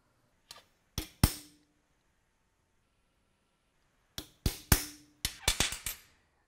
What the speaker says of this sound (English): I'll center punch those.